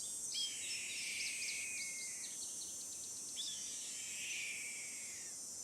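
Red-tailed hawk call in the Nancy Drew game Ghost Dogs of Moon Lake, two long, high, raspy descending screams with a harsh buzzy texture, heard alone over faint hiss.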